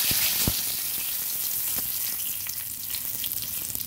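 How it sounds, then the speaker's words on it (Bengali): Whole spices and a bay leaf fry in hot oil, giving a steady, close sizzle with small crackling pops throughout, with no voices. "পাঁচফোড়ন, হালকা ভেজে নিচ্ছি।"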